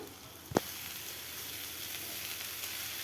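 Greens mixed with lentils and green chilli sautéing in a pan: a faint, even sizzle throughout, broken once early by a short knock of a spoon against the pan, no talking.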